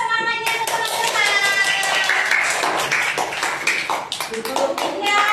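Young children in an Islamic kindergarten classroom perform a rhythmic cheer clap, sharp hand claps in a quick patterned beat mixed with chanting voices close by.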